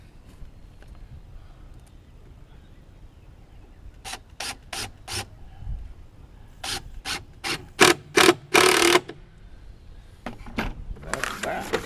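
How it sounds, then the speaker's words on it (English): Screws are driven into the wooden lid of a swarm trap with a power driver, giving bursts of short whirring pulses, a quick cluster and then longer runs, close by against quiet background. "just a couple of screws in there to make sure that the lid doesn't blow off"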